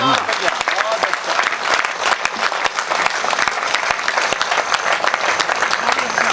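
Audience at a Hindi poetry recital, a kavi sammelan, breaks into loud sustained applause: many hands clapping densely and evenly for several seconds, close and full, with crowd murmur mixed in.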